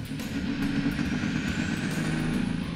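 A diesel pulling truck on a dirt track revs its engine up to spool the turbochargers, a loud sustained roar with a rising high whine layered over the deep rumble, heard throughout without speech.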